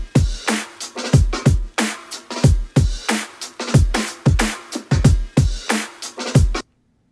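Funky breakbeat drum loop with accented hi-hats, steady punchy kicks and bright snare and cymbal hits in a regular groove, loud and alone, ending abruptly.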